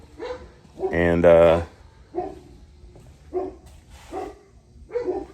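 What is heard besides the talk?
dogs barking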